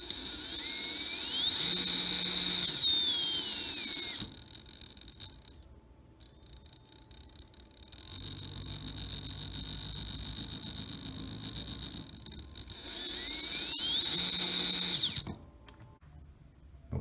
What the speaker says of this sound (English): what it ended up being, I found, was the metal spur gear